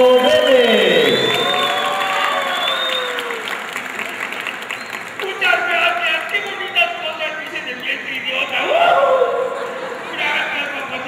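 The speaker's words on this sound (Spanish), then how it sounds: "Un aplauso para recibir a la voz de Homero Simpson, al gran actor mexicano, Humberto Vélez." At a comic convention, an audience applauds and cheers to welcome a Mexican voice actor. The clapping and cheering swell and fade in waves, with excited voices and shouts rising over the crowd.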